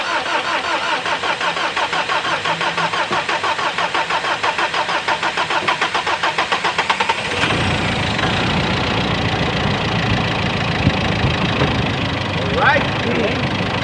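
A Mitsubishi Montero 4D56 diesel engine with a snapped timing belt cranks with a rapid rhythmic chugging, then catches and settles into a loud, rough idle; a voice briefly exclaims near the start.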